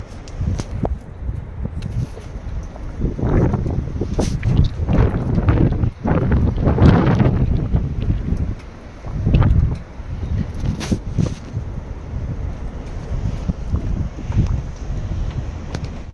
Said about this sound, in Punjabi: ਸਭ ਤੋਂ ਜ਼ਿਆਦਾ ਤੇਜ਼ ਹਵਾ